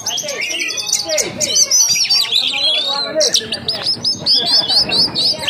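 Oriental magpie-robin (kacer) singing loudly and close, a persistent stream of varied whistles, trills and chirps with brief pauses, while someone talks over it.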